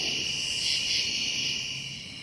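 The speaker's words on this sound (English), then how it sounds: "Frogs, crickets, all kind of things is singing away all night long." Crickets chirp at night beside Celina Lake in the Hoosier National Forest, a steady, faint, high-pitched trill that swells slightly and then eases, with no voices.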